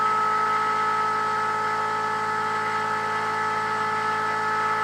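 Four Arduino-controlled dual-pole mini rotors, double stacked, spin at about 3200 RPM, making a steady loud mechanical whine with a constant tonal hum and no changes in pace throughout.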